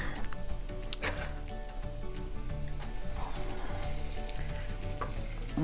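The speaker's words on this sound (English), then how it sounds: "I've got half a stick of butter already melted in the pan, and I'm adding about a tablespoon of garlic." Minced garlic frying in half a stick of melted butter in a pan, with a steady close sizzle throughout and a few sharp clicks and stirring clatters.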